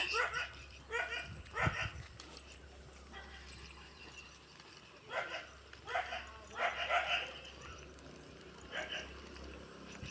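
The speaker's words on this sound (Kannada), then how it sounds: "ಇವನು ಬಂದಿದ್ದಾನೆ ಅಂತ ಅವ್ರು ಮನೆ ನಾಯಿ ಬೊಗಳ್ತಾ ಇದ್ದಾನೆ" A neighbour's house dog barks repeatedly in short bursts of yips and bow-wows at a moderate distance during an evening walk, with pauses between bursts and faint background sounds.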